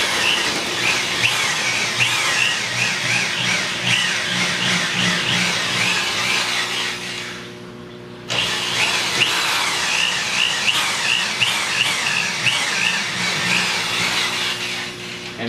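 A power drill whirs steadily at close range drilling into a wall to mount brackets, dips and stops briefly midway, then revs back up and keeps drilling.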